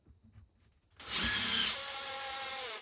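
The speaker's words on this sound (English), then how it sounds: "I'm going to drill 2 holes so that I can put the turnbuckles in a different place" A power drill bites into the chassis of a two-wheel-drive Traxxas Rustler RC truck, starting abruptly and whining steadily for nearly two seconds, loud and close, after a few quiet handling noises.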